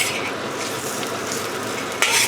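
Char Kway Teow with lapchong stir-fries in a hot wok, a loud steady sizzle with metal spatula scrapes and a sharper clatter near the end.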